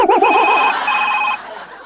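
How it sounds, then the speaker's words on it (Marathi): A telephone rings in a home scene from a Marathi comedy sketch: a loud, close electronic ring that warbles briefly, then holds a steady high tone for about a second before fading. "अय्या, मामांजींचा फोन आला."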